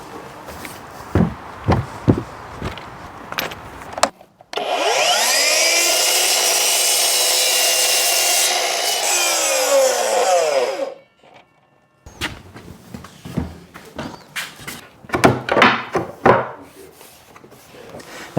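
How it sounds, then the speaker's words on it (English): Power saw slicing through a wooden stair nosing while fitting a double winder staircase, a loud continuous whine lasting several seconds, framed by knocks and handling clatter of timber before and after. "That enables me to cut the nosing"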